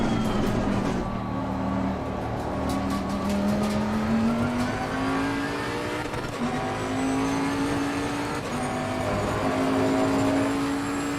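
Bentley GTC race car lapping the Hungaroring in the racing game Assetto Corsa, its engine droning loud and continuous with rising and falling pitch through gear changes and corners, alone without talk.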